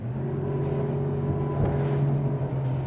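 An SPX RIB 24 motorboat running at speed, a steady droning engine hum with strong low tonal harmonics over rushing water and wind, loud and continuous.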